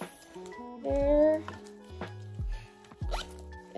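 A small zipper on the back of a pair of Lululemon shorts is zipped in several quick, close pulls and short tugs, with faint voice sounds mixed in.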